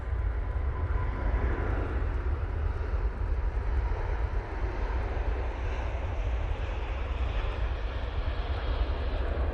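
A jet airliner lands at Manchester Airport, its engines a steady distant roar with broad rumbling noise that holds level throughout, with no voices.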